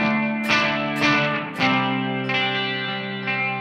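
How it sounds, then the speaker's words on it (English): Electric guitar chords played through the first, short playback head of a T-Rex Binson Echorec tape-style echo unit, giving a tight slapback repeat; sustained, distorted tones restruck about every half second, loud and alone. "So the first head was the short head. You can hear very much kind of like a slapback reverb almost."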